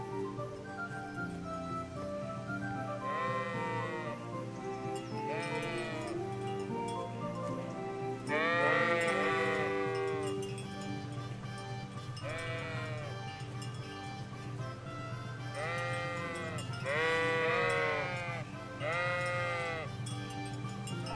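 Repeated sheep bleats from a video game, several overlapping calls arriving in bursts over a steady musical backdrop, fairly loud and close throughout.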